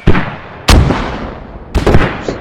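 Mortar fire lands in three heavy booms, each a sharp thump followed by a long rumbling decay. The blasts come at uneven intervals and sound fairly close.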